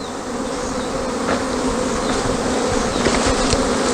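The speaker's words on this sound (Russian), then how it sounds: "Вот тут тоже облетывается пчела." Dense, even drone of many honeybees circling close around a hive in an apiary on an orientation flight, with no voices over the hum.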